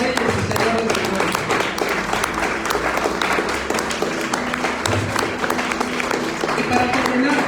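A church congregation claps loudly and steadily throughout, a thick continuous wash of applause with voices mixed underneath.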